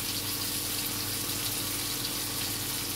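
Tap water runs into a kitchen sink while dishes are washed during cooking, a constant close splashing stream that keeps an even level with no speech.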